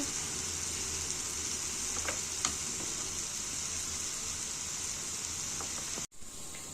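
A hot achappam mould dips into frying oil, producing a continuous, even sizzle with a few faint pops, which briefly cuts out near the end before resuming.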